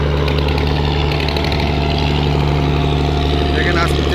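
Sonar Tori passenger launch engine idling while the boat slowly comes in to dock, a steady loud low drone with continuous mechanical hum throughout, with a voice talking over it.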